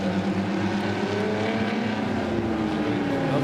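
Race cars lap a circuit during a Saturday motor race, a continuous steady engine drone with slowly shifting pitch as the cars pass, loud and unbroken with no talk over it.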